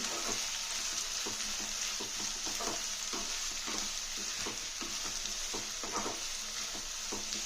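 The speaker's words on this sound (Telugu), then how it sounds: "ఉల్లిపాయలు చక్కగా ఆయిల్లోకి కలిపేసి" Onions frying in hot oil for a mango, tomato and onion curry, a steady close sizzle with repeated scraping stirs of a spoon through the pan, no talking.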